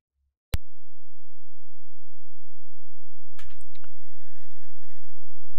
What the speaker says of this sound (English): So double click on there.